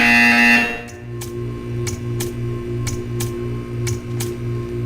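A repeating electronic buzzer from the video game Portal 2 pulses steadily, roughly twice a second, after a brief louder tone at the start, over a constant low hum.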